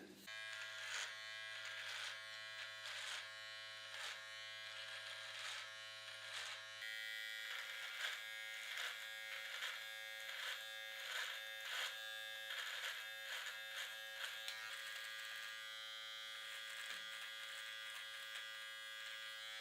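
A Wahl electric trimmer buzzes steadily and close while cutting a horseshoe mustache, its pitch shifting slightly partway through, with no talking.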